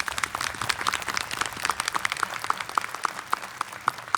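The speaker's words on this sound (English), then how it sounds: "A round of applause for our La Joya ISD staff." A crowd applauds at a school district board swearing-in ceremony, many hands clapping at once, with a few louder, distinct claps standing out rhythmically as the clapping continues.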